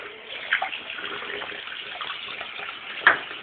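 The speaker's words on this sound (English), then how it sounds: "I put it under the sink and rinse it out" Tap water runs steadily into a sink as a pet snake's water bowl is rinsed out, a soft continuous splashing hiss with a couple of brief louder spatters, close by and with no talking.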